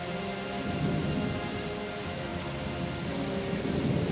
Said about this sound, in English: That storm's closing in. This drizzle's about to turn ugly.